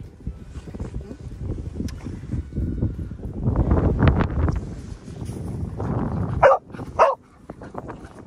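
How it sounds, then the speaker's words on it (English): Dogs on an afternoon walk with a pack of big dogs, giving a couple of sharp barks late on over wind noise and rustling outdoor movement, with no speech. "Which of you two was barking?"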